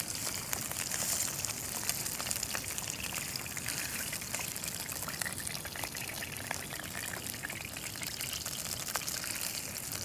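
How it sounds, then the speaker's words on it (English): Pieces of small-eyed ray frying in hot oil in a pan on a sloping beach, giving a steady, dense crackling sizzle with fine pops throughout, fairly close and continuous with no talking. "the oil has reached its nice high temperature, so we're gonna chuck in the nice bits of small-eyed ray"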